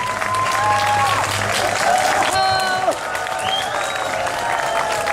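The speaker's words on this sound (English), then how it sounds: "applaudissez le Premier ministre" A crowd applauds the Prime Minister at a 2015 gathering, dense clapping filling the room throughout, with scattered cheers and a few voices rising over it.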